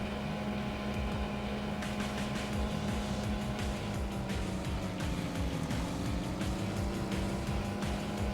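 A racing video game's car engine drones on in an even, thin whine with little rumble, continuous for several seconds with no one talking.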